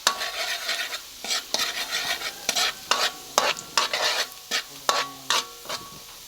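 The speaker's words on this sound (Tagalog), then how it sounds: "gisahin natin yung taba ng talangka. Muna yung ating bawang" Garlic sautéing in a pan for a crab fat (taba ng talangka) dish: crackling sizzle punctuated by repeated scrapes and clinks of a utensil stirring against the pan, close and lively.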